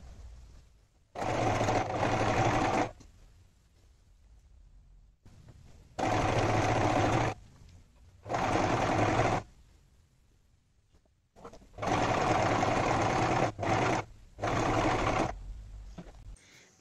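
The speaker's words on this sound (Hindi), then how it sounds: "तो गाइस मुझे इतने सारे पेटीकोट में सिलाई लगानी है मम्मी के" An electric sewing machine stitching a stack of petticoats runs in several loud, steady whirring bursts of one to three seconds, separated by quiet pauses, close up and alone.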